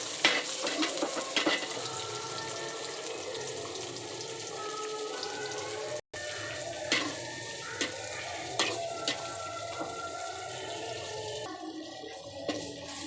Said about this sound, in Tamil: இப்போ வெங்காயம் போட்டுக்கலாம். வெங்காயம் வதக்கட்டும்.